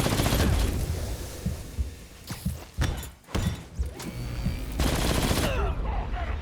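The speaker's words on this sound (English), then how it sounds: "I genuinely cannot have missiles and a minigun firing at me all at once" Minigun fire and missile blasts rain down in Marvel's Spider-Man, a loud, dense stream of rapid gunfire punctuated by heavy thudding explosions, with a brief lull midway before the barrage resumes.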